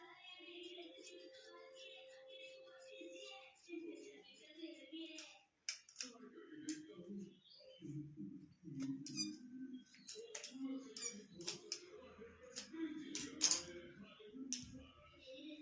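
Scissors snip the inner square out of a shopping bag with quiet, scattered cuts and small crinkles, while a voice speaks softly nearby.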